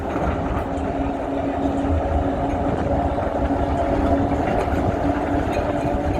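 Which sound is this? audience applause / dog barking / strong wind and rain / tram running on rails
tram running on rails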